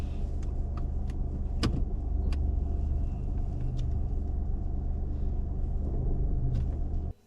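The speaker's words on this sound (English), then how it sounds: "reverse back 2 car lengths for me, keeping fairly close to the curb" A car reversing slowly close to the curb on a driving test, a low steady engine rumble inside the cabin with faint clicks and jingles, cutting off abruptly at the end.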